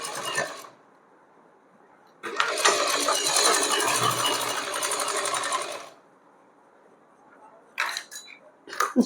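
A sewing machine stitches a pocket onto a pair of Afghani-style trousers, running in one loud, steady burst of about three and a half seconds. Shorter, quieter stitching bursts follow near the end, with low background noise in between.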